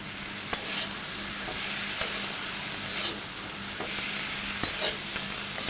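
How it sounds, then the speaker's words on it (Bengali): Chickpeas with chili powder are stirred in a sizzling pan, with steady frying hiss and periodic scraping taps of the spoon against the pan, close and clear, with no talk. "ভালো করে নেড়ে চেড়ে মিশিয়ে নেব মরিচ গুঁড়োটা"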